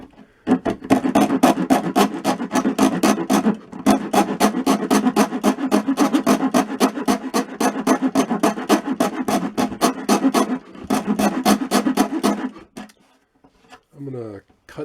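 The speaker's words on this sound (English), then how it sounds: "I'm using this hacksaw." A hacksaw cuts through a wooden drawer rail with steady, rapid back-and-forth rasping strokes, close and loud, pausing briefly near four and eleven seconds and stopping just before the end.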